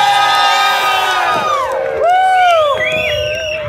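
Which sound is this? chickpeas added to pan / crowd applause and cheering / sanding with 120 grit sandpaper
crowd applause and cheering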